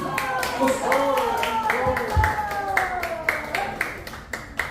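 Clapping from an audience at a Korean trot music show, scattered rhythmic claps running beneath a singer's voice and sustained backing music, with a couple of low thumps partway through.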